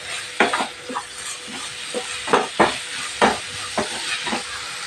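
Amla gooseberries sauté in a pan with a pinch of asafoetida over a raised flame, a steady close sizzle broken by repeated scraping stirs of a spoon against the metal.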